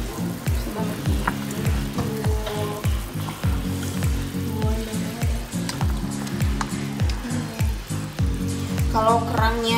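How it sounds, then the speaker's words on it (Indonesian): A pot of clam broth for pindang kerang boils with a busy rhythmic bubbling and sizzle-like churning, steady and close throughout with no speech. "Ini sepertinya sudah mendidih."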